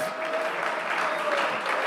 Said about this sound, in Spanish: Denle un aplauso más fuerte